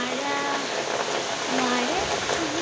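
Rain pours down in a steady hiss of drops, while a voice sings a few drawn-out notes over the downpour.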